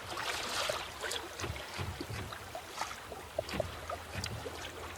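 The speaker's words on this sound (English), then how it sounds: "We're sailing on a broad reach now, heading towards Bundaburg, doing about 4 knots. Got a full main." A sailboat running on a broad reach under full main at about four knots, with soft steady wind and water swishing and gentle splashes along the hull, fairly faint and without talk.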